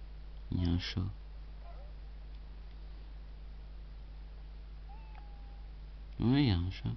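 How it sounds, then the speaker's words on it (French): A cat meows in the video game Lego City Undercover, two short meows, one near the start and one near the end, over a steady low hum, with faint talk and a brief whistle-like tone between them. "Il y a un chat."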